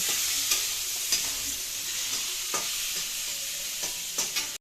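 Curry being stirred in a pan, a continuous hiss of frying broken by several sharp scraping stirs at irregular intervals, close and fairly loud with no talking.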